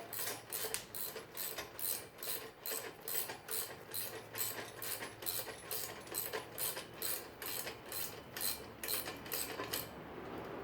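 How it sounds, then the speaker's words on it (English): A wrench ratchets steadily while tightening the axle bolts on a Hoss double wheel hoe, giving about twenty evenly spaced metallic clicking strokes, close and clear, with no voices. "And that's what we're going to use to tighten up these axles."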